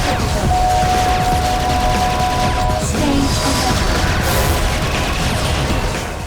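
Racing combat in WipEout HD Fury on PlayStation 3, with machine guns firing at mines amid a dense, loud, continuous barrage of rapid bursts and explosions over a constant game roar.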